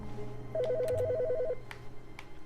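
A single warbling ring from a desk phone inside The Stanley Parable, one rapid trilling burst lasting about a second over a faint low hum, with no voices.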